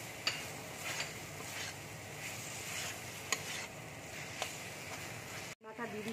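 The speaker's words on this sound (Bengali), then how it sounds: "টমেটোটা দিয়ে ভালো করে কষিয়ে নেব" Tomato sautéing in a pan with mutton keema: a steady, fairly loud sizzle with stirring scrapes and a few sharp clicks, cutting off briefly near the end.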